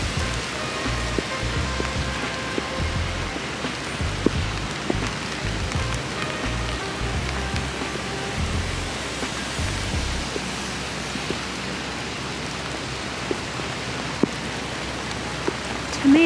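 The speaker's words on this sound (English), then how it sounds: "the rain's really coming down now." Heavy rain pours down steadily outdoors beside a garden with sunflowers and tomatoes, a dense continuous hiss of drops on surfaces with low rumbling patter, loud and unbroken throughout with no talking.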